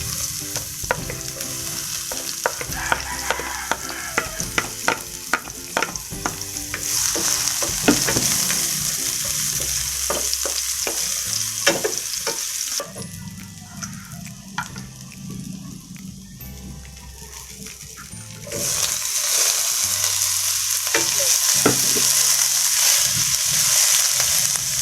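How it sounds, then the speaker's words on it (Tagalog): Garlic sautéing in hot oil in a pan for ginisang sitaw with talong, a loud, close, continuous sizzle with clattering stirs and scrapes that surges and fades as the pan is worked, no voices. "So, gisa na tayo ng bawang"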